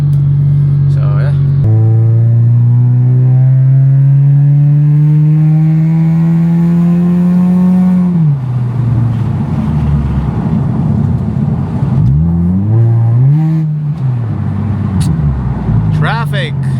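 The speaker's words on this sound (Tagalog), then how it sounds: "Traffic." Honda Civic FD engine droning and revving from inside the car while driving in traffic, pitch rising steadily then dropping and climbing again, loud and continuous with a voice talking over it.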